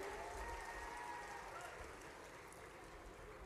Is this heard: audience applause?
yes